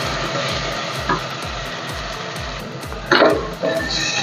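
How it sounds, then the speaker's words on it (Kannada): Ground masala paste frying in hot oil in a pan while being stirred for a veg donne biryani, a steady close sizzle with rhythmic scraping strokes of the spoon and a louder burst of hiss partway through. "ತಕ್ಷಣ ಇವಾಗ ನಾವು ರುಬ್ಬಿರೋ ಮಸಾಲೆ ಹಾಕ್ಕೊಳ್ಳೋಣ. ಚೆನ್ನಾಗಿ ಫ್ರೈ ಮಾಡ್ಕೊಳ್ಳೋಣ."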